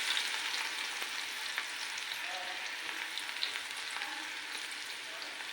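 Garlic hits hot oil in a pan with a steady, dense sizzle and fry that holds at an even level throughout, with small crackles and pops scattered across it and no voices.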